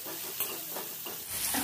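Chopped onion hits hot oil already tempered with cinnamon and cumin for muri ghonto, a brief steady sizzle with a few stirring scrapes, close and fairly loud.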